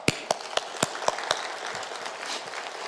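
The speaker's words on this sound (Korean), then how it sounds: "한번 크게 박수합시다." A church congregation breaks into applause during a Sunday service at Chuncheon Seonggwang Church. A few sharp, regular claps open it, then it thins into a softer, scattered patter that fades over a few seconds.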